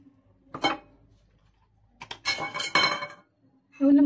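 A spoon clinks against a bowl while beating almond paste with olive oil and honey for amlou, a few separate scraping, knocking strokes with pauses between them and a short voiced sound at the end.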